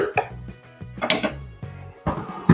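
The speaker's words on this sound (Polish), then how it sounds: "Wszystkie składniki jeszcze raz zamieszam." A spoon clinks and scrapes against a pot while pumpkin soup ingredients are stirred, giving a few close metallic knocks and rattles in quick succession.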